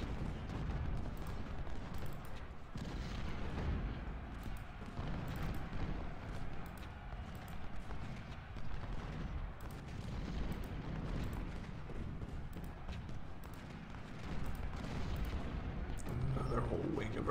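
Rumbling artillery fire and distant booms roll continuously through a battle in the Civil War strategy game Ultimate General, with someone talking over the din.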